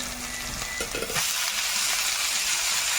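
Red amaranth greens dropped into hot oil already frying with dry red chilli, whole cumin, chopped onion and garlic, a quiet sizzle at first, then a sudden loud, steady hiss of frying that continues to the end, close and without talk.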